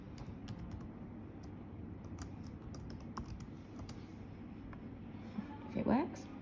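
Password typed on a computer keyboard for a school remote-learning portal, scattered light key clicks in a quiet room, with a voice speaking over them.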